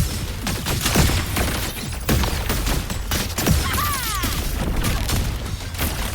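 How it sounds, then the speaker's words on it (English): Dense, continuous booming and rapid fire from grenades and guns in the action video game Wuthering Waves, a loud chaotic barrage with repeated thumping blasts and a brief whistling effect midway. "Time to cook with fire! More grenades!"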